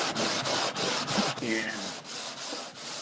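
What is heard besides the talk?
sanding a wall with a sanding screen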